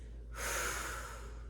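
A single deep, breathy exhale during a Pilates mat exercise, close to the microphone and sustained for about a second before trailing off.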